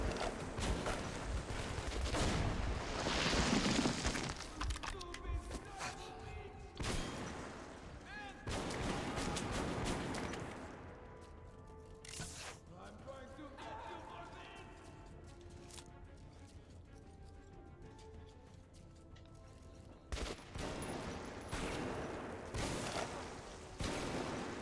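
Bursts of loud gunfire in the video game Metro 2033 Redux, several sharp blasts and rattling volleys separated by quieter stretches, with a voice talking over parts of it.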